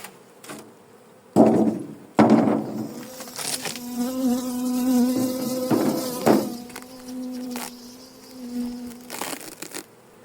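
Honeybees in an opened backyard hive just after the roof comes off give a steady close buzzing hum that swells and holds, with a few louder thumps and rustles of handling at the start.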